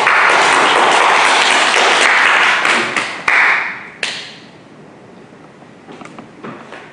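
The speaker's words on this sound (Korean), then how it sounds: "큰 박수로 모십니다." A crowd applauds loudly and steadily for a few seconds to welcome a lecturer at a Won Buddhist meditation hall in Busan, then the clapping thins out and fades into quiet room noise with a couple of thumps.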